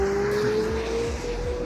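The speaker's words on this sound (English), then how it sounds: "You can hear so much of that engine, the turbo spooling up, the wastegate sounds." A 2024 McLaren 750S engine revs hard and steadily at high pitch toward its 8,500 RPM redline, with a rising turbo whine, wastegate sounds and rumbling exhaust pops underneath, loud and close.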